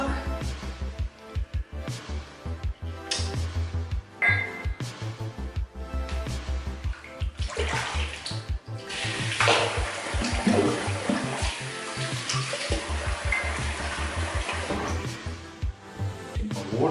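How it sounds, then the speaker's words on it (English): Water runs steadily from a tap into a sink during a wet shave with a puck soap and razor, a continuous close splashing wash that fills the whole stretch. "My water's leaking out."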